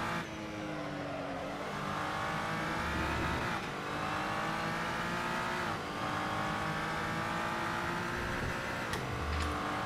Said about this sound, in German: man kann mit dem SCG ein bisschen driften